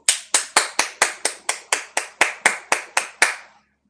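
Single pair of hands clapping about a dozen times at a steady, even rhythm, each clap sharp and close, alone with no voices, ending cleanly.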